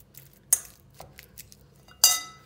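A metal utensil mashes a banana in a wide bowl, giving a few sharp, close clinks and scrapes against the dish spaced irregularly, with two louder knocks standing out in near silence.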